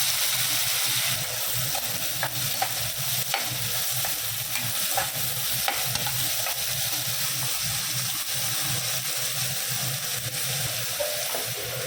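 Onions are dropped into hot oil with mustard seeds, urad dal, fennel powder and asafoetida, making a loud, steady, close sizzle with faint stirring scrapes throughout.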